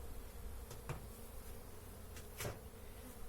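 Honey bees buzz at a hive during syrup feeding, a faint continuous drone close by with a couple of soft knocks, no voices.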